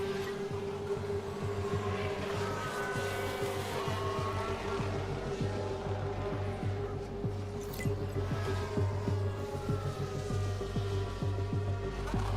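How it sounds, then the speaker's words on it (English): Albon's Formula 1 car in F1 Manager 24 runs with a steady engine tone broken by aggressive, irregular misfire pops and crackles, continuous and fairly loud throughout. "There's some pretty aggressive misfires there"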